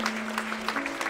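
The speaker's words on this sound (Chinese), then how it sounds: "那我们给瑞俊和安妮一个掌声" Guests at a wedding ceremony clap for a groomsman and bridesmaid, a brief, soft patter of applause over a steady low hum.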